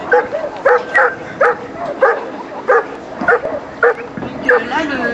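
Police dog at a municipal police demonstration giving repeated short barks and yips in a steady rhythm, fairly loud and close, with background noise and some voices mixed in.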